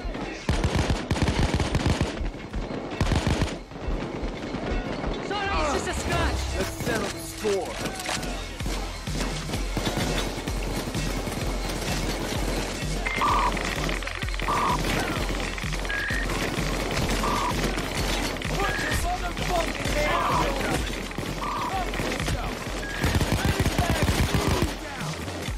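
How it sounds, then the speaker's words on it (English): Rapid automatic gunfire from a Payday 2 heist shootout, dense bursts running loud and nearly continuous across the clip, with some game sound effects mixed in. "stop shooting me"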